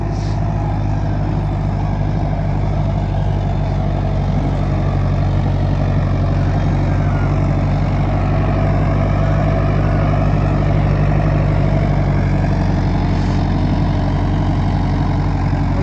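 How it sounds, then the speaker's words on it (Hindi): A Powertrac Euro 55 tractor engine runs steadily, a loud, low, continuous diesel rumble close by with no change in pace throughout. "मुझे तो ट्रैक्टर काफ़ी अच्छा ठीक दिखा रहा परफॉर्मेंस अपनी"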